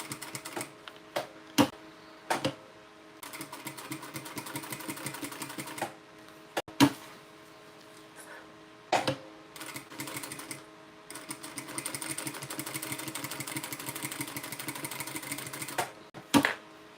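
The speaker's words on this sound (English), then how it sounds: "Okay, now top stitch." A sewing machine top stitches a fabric bag in quick rattling bursts, several runs of rapid mechanical stitching broken by short pauses and sharp clicks, close up and fairly clear.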